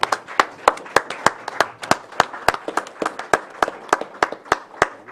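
A handful of people clap at a county board of supervisors meeting, sharp distinct hand claps in an uneven, sparse rhythm, fairly close and loud, continuing for several seconds without talk.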